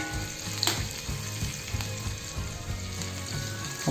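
Oil sizzling steadily as green chilies fry in a pan, with occasional pops and stirring clinks close by.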